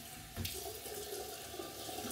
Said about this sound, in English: Take just water on here.